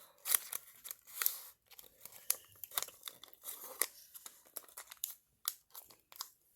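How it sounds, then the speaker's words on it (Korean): Paper being folded while making an origami sword knight from a green square, heard as close, dry crinkles and crisp creasing taps in an irregular rhythm with short pauses and no talking. "이제 이걸 다 안쪽으로 접어주세요."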